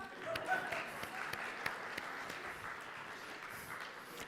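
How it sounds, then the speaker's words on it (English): A church congregation applauds the First Unitarian Church's Women's Choir after a song at a Sunday service, a faint, thin spread of clapping with scattered individual claps. "We can clap."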